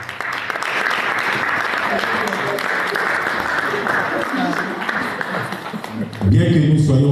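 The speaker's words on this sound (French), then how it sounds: "celle-là, vous devez l'applaudir très fort" An audience at an artists' event claps loudly and steadily for about six seconds, dense applause filling the room, then a voice takes over as the clapping fades.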